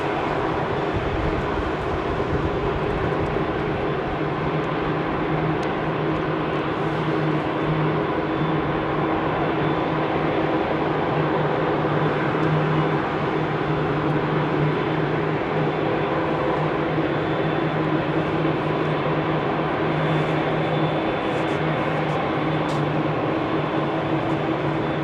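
A jet airliner taking off from runway 27R at London Heathrow, a continuous heavy engine roar with steady broadband rumble and a low drone, loud and unbroken throughout, no voices.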